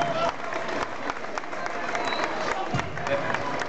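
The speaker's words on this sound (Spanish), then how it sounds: "fuertes aplausos, ¿eh? Se agradece." An audience at a Lawyers' Day celebration applauds in a brief, fairly loud burst of many hands clapping, with crowd murmur running underneath throughout.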